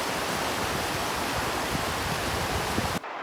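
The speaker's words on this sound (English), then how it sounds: "I've seen already the water is too high and it's flooded" Floodwater rushes loudly beneath a bridge after rain, a dense continuous roar close by that cuts off abruptly near the end.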